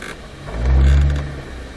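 Nissan GT-R engine manoeuvring slowly to park, a deep low rumble that swells briefly in a gentle rev and then settles, close and steady.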